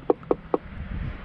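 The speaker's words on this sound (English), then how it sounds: "Oh, I'll have to knock on the door." Three sharp, evenly spaced knocks on a wooden birdhouse door, close and alone, followed by faint outdoor rustling.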